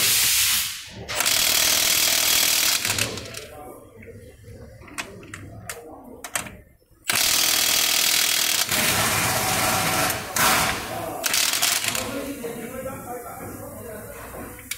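A Milwaukee 2864-20 3/4-inch impact wrench loosens a nut with loud bursts of rapid hammering, separated by pauses, while someone talks between the bursts.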